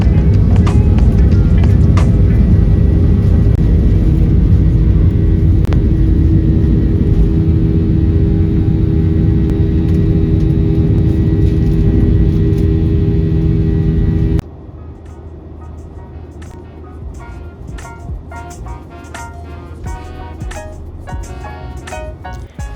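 A Delta airliner takes off from Louisville Muhammad Ali International Airport, heard from inside the cabin as a loud, steady engine roar that drops sharply partway through to a quieter hum with light cabin rattles.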